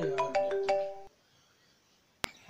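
A mobile phone ringtone plays a short melodic phrase of repeated tones for an incoming call from a friend, then cuts off, followed by silence and a sharp click.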